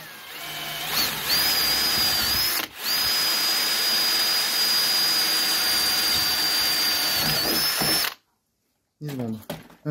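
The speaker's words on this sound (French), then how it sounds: "j'ai la meilleure mèche du monde pour faire des rivets" A power drill bores rivet holes in a steel exhaust pipe, a loud steady whine lasting most of the time with a brief pause, then stopping before a few short sounds near the end.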